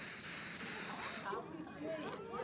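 Black hair spray hisses onto a wig from a can in one steady burst of about a second, close and clear, then stops, with soft voices around it.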